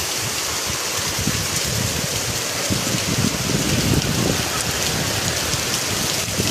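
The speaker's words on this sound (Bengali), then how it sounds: "দেখো এত হাওয়া দিচ্ছে, গেটের এই পর্যন্ত জল চলে আসছে।" Heavy monsoon rain driven by strong wind, water flooding up to a gate; a dense, loud, unbroken roar of downpour splashing on surfaces, with no pauses or voices.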